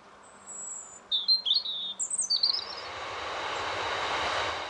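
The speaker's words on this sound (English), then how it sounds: "the robin is always happy to sing a song" A robin sings outdoors in October, with a few short, high, warbling phrases heard fairly near, before a broad rushing rumble like a passing train rises and masks the background.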